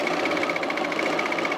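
A serger stitching a 3/8 inch seam through thick fleece for a men's pullover, a fast, even mechanical whir with a rapid regular pulsing beat running steadily and close, no talk.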